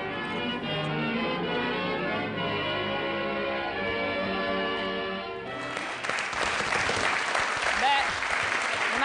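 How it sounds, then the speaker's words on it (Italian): Italian TV studio audience applause that breaks out after several seconds of music and voices, becoming a bright, dense clapping wash for the remaining few seconds. "Applauso a Follin"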